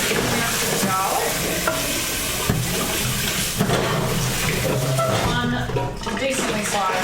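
Garlic sizzles and fries in a hot pan, a steady dense crackle with stirring scrapes, while people talk quietly in the background.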